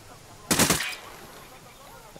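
A short burst of rapid gunfire in Ghost Recon Wildlands, several loud close shots packed into about half a second, followed by quieter background ambience with no talking.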